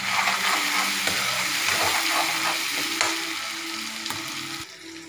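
Masala with turmeric and chili powder frying in a pan, a dense continuous sizzle with soft stirring scrapes, fairly close and steady before easing slightly toward the end.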